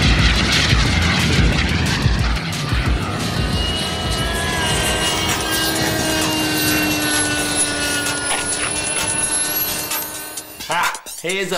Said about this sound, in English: Various planes are obviously now queuing up to have a go at that speed run.